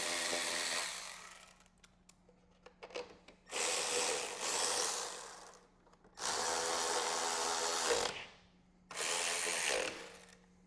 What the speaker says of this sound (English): Let's go ahead and put these 4 bolts back in with the 13mm in the side of the fuse panel here.